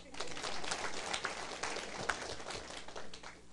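Audience applause at a political lecture hall gathering, a dense continuous patter of many hands clapping at moderate distance, steady throughout with a slight swell near the middle.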